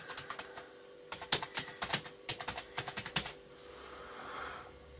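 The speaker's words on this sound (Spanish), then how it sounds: "Vamos a introducir aquí el correo electrónico para poner nuestra cuenta." Email address typed on a computer keyboard, close-up rapid key clicks in quick uneven bursts with brief pauses, then a softer rustling hiss at the end; no talking.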